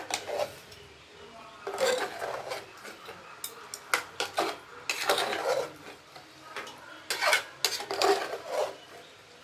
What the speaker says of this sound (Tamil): மசாலாவில் போட்டு மிக்ஸ் பண்ணணும்.